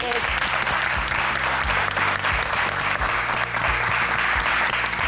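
Sustained studio applause from an audience for the brides on a Turkish cooking competition show, steady and loud across the whole stretch, with music underneath.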